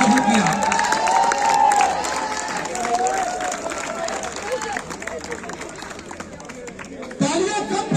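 A crowd at a school volleyball championship prize ceremony claps and cheers loudly and continuously, with chatter mixed through the applause and a fresh swell near the end.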